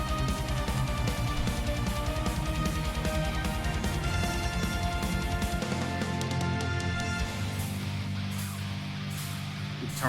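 A symphonic metal song plays with dense, driving distorted guitars and pounding drums, then the drums drop out near the end, leaving sustained guitars and orchestral layers.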